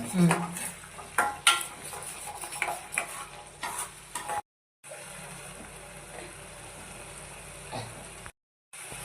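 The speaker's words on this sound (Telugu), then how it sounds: "ధనియాల పొడి ఇవన్నీ కలిపి బాగా మిక్స్ చేసుకోవాలి ఇలా" Coriander powder and spices being stirred in a pan for egg curry, a run of close scraping, clinking spoon-on-pan strokes with a light sizzle, then a steadier softer mixing sound broken by short silent gaps.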